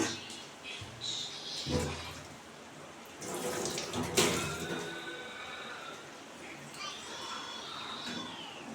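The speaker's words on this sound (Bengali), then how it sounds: "তো বন্ধুরা আরেকটু জল দেব আমি" Water pours into a pot of singi fish curry with green banana, splashing in short bursts between pauses, with someone talking over it and faint background sounds.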